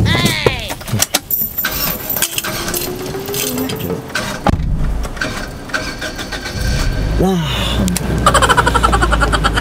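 A car engine cranks and catches after the car has been pushed, starting with a rising mechanical whir and then settling into a running idle, with people talking loudly over it throughout.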